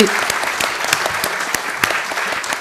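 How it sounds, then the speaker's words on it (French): A second round of applause from a lecture audience after a bioethics talk, lively clapping with distinct individual claps standing out over a steady crowd patter, brief and fairly loud. "Je pense qu'on peut peut-être lui faire une deuxième salve d'applaudissements."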